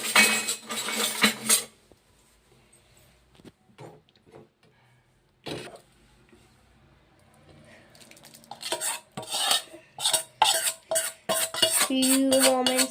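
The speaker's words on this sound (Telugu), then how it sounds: "ఇగో పులిహోర కలుపుతున్నాం మేము నైట్." Utensils clinking and scraping in a pot while pulihora tamarind rice is mixed, a quick burst at first, then sparse faint taps, then a dense run of rhythmic metallic scrapes and knocks near the end.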